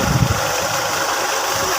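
A village tubewell pump engine runs at a steady idle, a continuous close mechanical drone with a faint knocking vibration and no voices.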